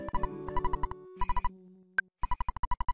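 A phone rings in the video game Earthbound with a chiptune ringtone of rapid, evenly spaced electronic pulses in repeated bursts, loud and close, with a brief pause and a single blip between bursts.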